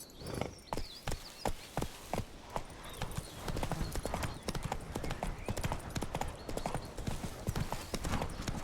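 Roach the horse's hooves clip-clop along in The Witcher 3, a quick, steady trotting rhythm that starts sharp and distinct, then blurs under a swelling bed of ambient game noise and music.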